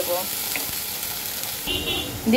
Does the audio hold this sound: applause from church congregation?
no